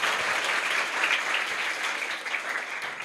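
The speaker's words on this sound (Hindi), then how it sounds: "जोरदार ताली बजाओ उसके लिए।" An audience at a public talk in Bikaner breaks into loud, sustained clapping, a dense continuous wash of applause with no voices.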